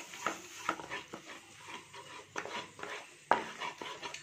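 A spoon stirs a yogurt and spice mixture of chili powder, salt, cumin and coriander in a metal pan, giving a series of soft scrapes and sharp clinks at an irregular pace, close and fairly quiet.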